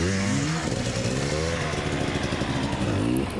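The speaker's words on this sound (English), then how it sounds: "His bike sort of sounded like it was struggling a little bit" Gas Gas enduro dirt bike engine labouring on a tall ledge climb at a hard enduro race, a steady, loud, wavering drone with pitch dips and surges.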